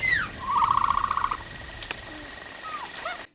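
Bright, high-pitched chirping and trilling from the Dilophosaurus in the film Jurassic Park: a sweeping call, a quick run of rapid warbling notes, then scattered softer chirps close by.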